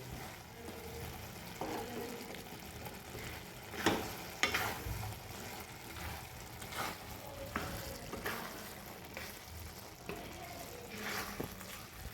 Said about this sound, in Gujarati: આ રીતે ચલાવતા જ રહેવાનું છે, ચલાવતા જ રહેવાનું છે.